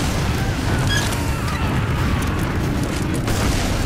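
Team Fortress 2 match with rocket jumpers, where a steady rumbling din of explosions and blasts fills the scene continuously at moderate loudness, with no talking.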